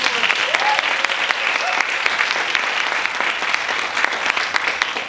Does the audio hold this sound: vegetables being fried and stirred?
no